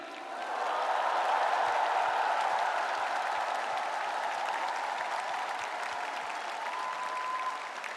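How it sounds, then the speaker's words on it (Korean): Sustained applause from a large political party gathering honoring two party candidates at a leadership acceptance speech, a dense steady roar of clapping with crowd noise that holds evenly throughout. "우리 두 분 후보님께 뜨거운 격려의 박수를 부탁드립니다."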